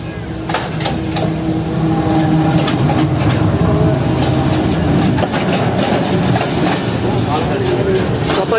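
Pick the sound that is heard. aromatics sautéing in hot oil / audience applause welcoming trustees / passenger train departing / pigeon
passenger train departing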